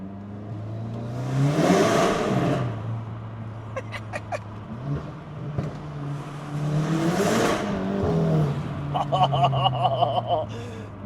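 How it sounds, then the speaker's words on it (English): Tuned VW Golf 8 GTI Clubsport with a Stage 2 tune, 200-cell downpipe and OPF, roaring through a small tunnel in two hard acceleration pulls that echo off the walls, with crackling exhaust pops between them and over the tail. "let's turn around and go into a small tunnel and see how the car sounds"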